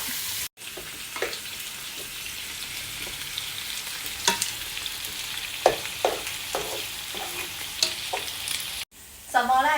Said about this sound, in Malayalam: ഫസ്റ്റ് സവാളൊന്ന് ഒന്ന് സോർട്ട് ചെയ്യാം